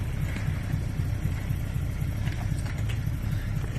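A 1969 Ford Capri with a built V8 idles with a deep, low, steady rumble, close and continuous for a few seconds with no voices.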